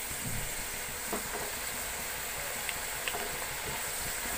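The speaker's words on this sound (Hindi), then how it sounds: "टू मिनट्स के लिए इसे मीडियम फ्लेम पे रखकर फ्राई करेंगे" Potato fries bubble in oil on a medium flame, giving a dense, even hiss that fills the clip, with a few faint ticks and no speech.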